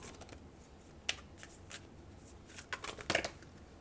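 Tarot cards shuffled and drawn by hand, soft riffling and sharp flicks of card stock, clustering into a quick burst near the end, close and fairly quiet.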